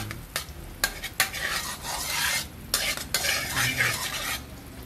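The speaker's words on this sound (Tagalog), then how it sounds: "low fire lang yan para hindi matunog ang butter." Butter melts in a pan over low heat as a utensil stirs and scrapes, giving a soft sizzle broken by sharp clinks and scrapes against the metal, close up and with no talking.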